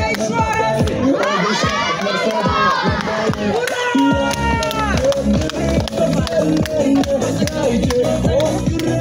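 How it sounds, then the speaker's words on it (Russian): A school crowd at a first-of-September ceremony claps and cheers loudly for a beloved teacher, with children shouting and whooping and adult voices calling out over the dense, continuous applause. "А ну-ка давайте хлопаем!"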